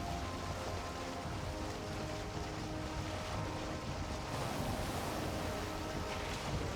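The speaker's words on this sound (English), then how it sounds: "Big waves." Big ocean waves washing steadily around a sailing boat in the game Valheim, a constant broadband rush of surf and wind with no talk.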